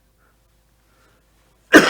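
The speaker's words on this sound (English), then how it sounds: "Wouldn't you know I'd have to cough?" A single sharp cough bursts out after a near-silent pause, loud and close.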